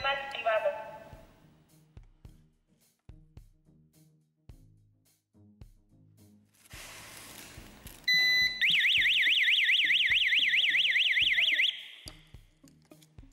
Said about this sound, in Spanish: Ahora armaremos la alarma.